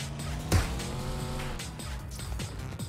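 A car in PUBG Mobile drives and skids, its tires squealing in one sharp screech near the start, then an engine drone with brief scraping skids, loud and close.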